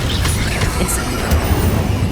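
A fire spell, Incendio, is cast during Hogwarts Legacy gameplay: a steady bed of rushing, crackling game effects with a brief bright flare partway through, moderately loud and unbroken.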